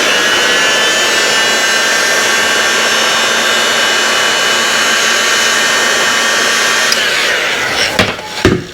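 A heat gun blows a loud, steady, whining stream of hot air onto shrink wrap over electric scooter battery wiring, then cuts off near the end, followed by a few handling clunks.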